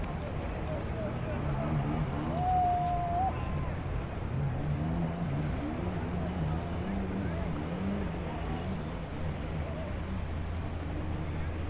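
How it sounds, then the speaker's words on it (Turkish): Boat motors hum steadily nearby at a Thai beach in Pattaya, a continuous low drone with some wind noise beneath a person talking. "Bu arada çevreden çok fazla motor sesi geliyor"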